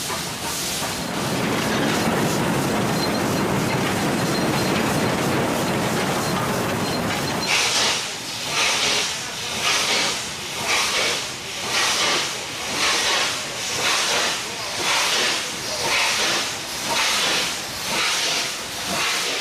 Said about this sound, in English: Nothing evokes the romance of the railway like a steam engine.